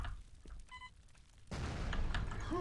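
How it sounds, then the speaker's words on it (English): A grenade launcher round bursts in Quake 1.5 on The Elder God Shrine level: a sudden, loud, broadband blast that rolls on as a sustained rumble for over a second, following quieter in-game ambience and clicks. "I wonder if I can launch a grenade on him."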